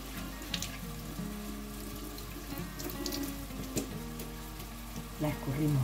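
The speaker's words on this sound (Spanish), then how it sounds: "Le damos un poquito bien con agua." Hake rinsed under a running kitchen tap, water splashing steadily throughout in a continuous near wash with small clatters, no speech over it.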